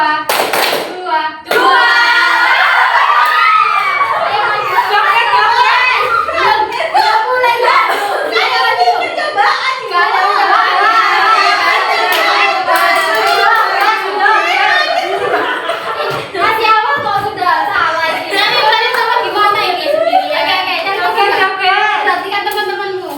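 Children in a classroom play a group clapping game, bursts of hand claps rising in ragged unison between a teacher's spoken cues, with kids chattering and chuckling throughout.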